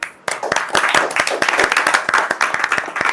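A small group claps for themselves at the close of a relaxation session, steady overlapping handclaps, fairly close and loud, with no talking over them.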